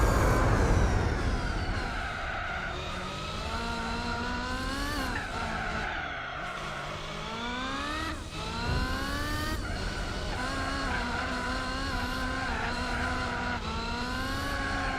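Race car engine note in Gran Turismo 4, a steady loud drone with pitch sweeping up and down through gear changes, joined by tire squeal through the corners, with no talking.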